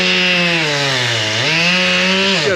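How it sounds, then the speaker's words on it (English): Chainsaws cutting logs at a woodyard produce a loud, continuous engine whine that dips in pitch as the saw bogs into the wood, then climbs again as it revs. "chainsaws"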